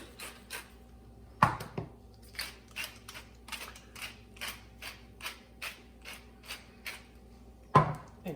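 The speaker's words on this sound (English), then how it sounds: "take my knife here and just mix up that garlic, cheese, and parsley" A knife taps and scrapes on a cutting board as garlic, Parmesan cheese and parsley are chopped and mixed together, a steady run of soft clicks with a few sharper knocks near the start and end.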